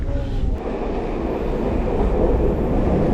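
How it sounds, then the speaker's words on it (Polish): A metro train rumbling through an underground station, with a steady loud roar of wheels and carriage noise throughout and a brief higher screech near the start, no talking. "To jeszcze nie moje metro, bo tutaj dwie linie jeżdżą"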